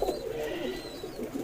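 Kalsire Ambersare pigeons coo in soft, repeated low burbling calls, close by and fairly faint, continuing steadily with no talk over them.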